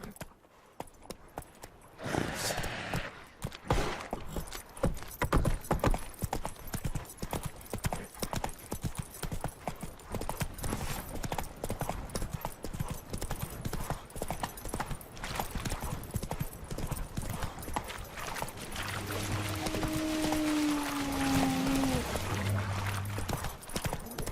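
The horse Roach galloping in The Witcher 3 video game, a fast continuous drumming of hooves, loud and close, with a brief whinny near the end over ambient wind.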